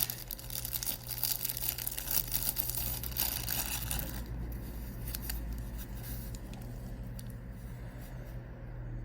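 A Seiko Presage SPB223 GMT watch is pulled free of its plastic wrapping, with close crinkling, snipping and tearing sounds that are busy at first and then fade to quieter rustles, without speech.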